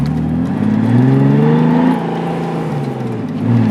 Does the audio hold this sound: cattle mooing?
no